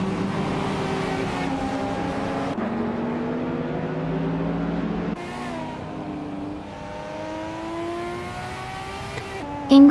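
Racing car engines in a video game race featuring a 1982 Holden Commodore, steady droning and revving tones rising and shifting as cars change gear, mid-distance and continuous with a brief sharp jump in level at the end.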